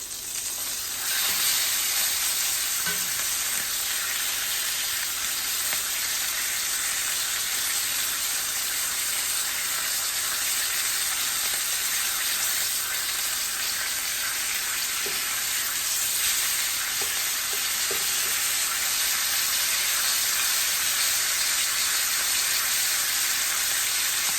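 A freshly flipped ribeye steak sears in a hot pan indoors, giving a loud, steady, unbroken sizzle that holds close and even throughout.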